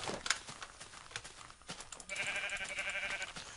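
Sheep in the video game Minecraft bleat several times, the wavering calls coming loud and close over game sounds, with a long sustained bleat near the end.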